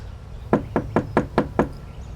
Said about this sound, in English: making their presence known with a knock